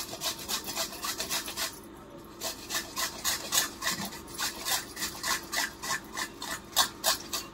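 Sweet potato is grated on a hand grater with rapid, rhythmic rasping strokes, close and steady apart from one short pause, with no voices.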